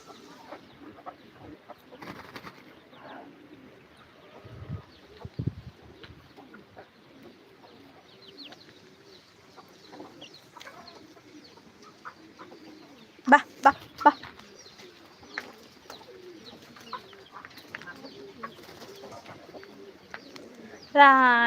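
Karinkozhi black chickens, native country chickens and Salem chickens give scattered soft clucks and calls at low level, with a few sharper bursts near the middle and end, amid faint background movement.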